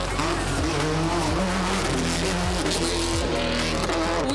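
Subaru race car at the Goodwood Festival of Speed, its engine roaring loud and close with repeated rising revs and gear-change dips, tires faintly squealing throughout.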